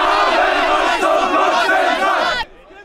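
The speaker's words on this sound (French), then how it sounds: "sous les huées des contre-manifestants anti-Pegida." Counter-protesters boo a Pegida march in a German street on a Monday evening, a loud massed chorus of jeering voices that runs continuously then cuts off abruptly near the end.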